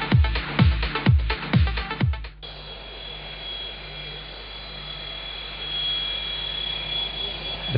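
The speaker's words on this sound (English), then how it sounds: "The plane from Moscow landed in Grozny airport on time." A passenger plane from Moscow landing at Grozny airport: several rhythmic deep whooshes at first, then a steady broad roar of jet engines with a faint whine, heard from a distance.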